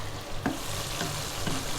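Garlic peanuts (kacang bawang) being stirred in hot frying oil, a steady close sizzle with a few distinct scraping stirs of the spatula against the pan at irregular intervals.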